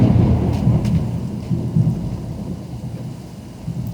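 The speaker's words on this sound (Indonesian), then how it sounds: "Jakbar masih petir doang." Thunder rumbles low and heavy through steady rain, one long rolling peal that swells and fades across the whole stretch, close and loud with a hiss of rainfall beneath.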